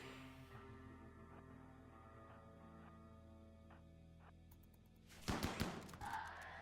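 Gunfire in the video game RimWorld: a quiet hum of background music for several seconds, then a sudden loud cluster of rapid shots, followed by a brief rattle.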